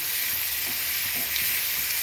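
Soaked poha roasts in a pan, giving a steady close hiss and sizzle with faint scraping from stirring.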